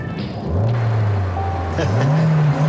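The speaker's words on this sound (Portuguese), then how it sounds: "Cara, esse carro aqui tem um motor." A Volkswagen Voyage 1.0 engine revs as the accelerator is pressed. The tone climbs loud and close in a brief burst.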